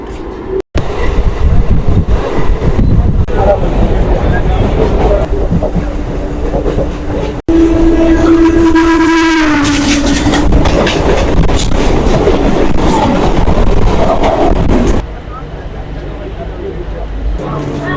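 A commuter train runs on the rails between Kolkata and Krishnanagar, a loud, continuous rumble with rhythmic clatter, a brief whine partway through and a drop in level near the end, with voices faintly mixed in.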